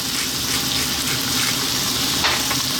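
Chicken fries on high heat in a pan, a loud, dense, unbroken sizzle and hiss heard up close with no talking.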